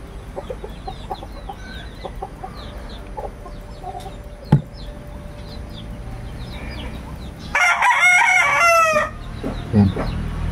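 A rooster crows once, loud and close, after several seconds of quieter farmyard background with faint clucks and a single sharp knock.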